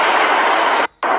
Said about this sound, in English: The first blast sent a plume of smoke into the air and set off multiple explosions.